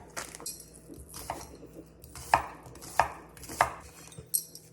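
Garlic, onion and pepper being chopped with a knife on a board for cabbage with corned beef brisket, several distinct close thuds coming at a loose, even pace with no talking.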